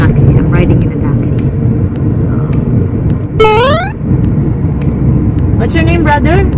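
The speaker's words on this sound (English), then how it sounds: "right now I'm here in a taxi. I'm riding in a taxi." Steady low rumble of a taxi cabin in motion on the streets of Jeddah, with continuous engine and road noise throughout, a brief rising whine near the middle, and voices talking over it.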